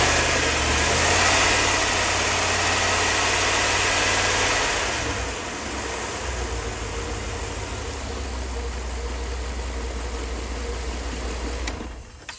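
A Dodge Magnum V8 van engine (5.2 or 5.9 litre) idles steadily and close by, a low continuous rumble that drops slightly in level about halfway through and then holds even until the end.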